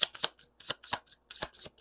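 Tarot cards being pre-shuffled by hand during a reading, giving a run of crisp, papery riffling bursts in quick uneven clusters, close and moderately loud with short gaps between them.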